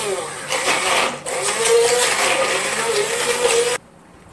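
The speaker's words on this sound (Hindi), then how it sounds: "ये देखिए, ये मैं हैंड ब्लेंडर से इसको कीमे को पीसूंगी।" A hand blender whirs loudly as it grinds warm cooked minced meat for shami kababs, a steady buzzing motor running about four seconds with a short dip near the start before cutting off abruptly.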